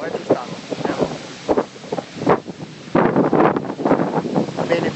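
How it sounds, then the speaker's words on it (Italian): Strong wind and high waves at sea in a force 8 gale, recorded from aboard a boat in the Gulf of Naples; loud continuous buffeting roar with surging bursts, heavy microphone wind noise, and someone talking throughout. "qui l'onda si fa alta."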